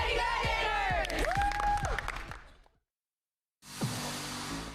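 Crowd at a school Teacher Tuesday celebration applauding and cheering, with whoops and shouts. Loud bursts for about two seconds fade out, then after a short silence steady applause resumes.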